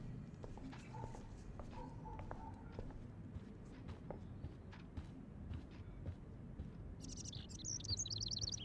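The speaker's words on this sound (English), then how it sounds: "can you help me get this bird out of here?" Bird chirps in a Life Is Strange video game scene, a bird trapped indoors, with short tweets scattered over a steady background hum and a brighter burst of chirping near the end.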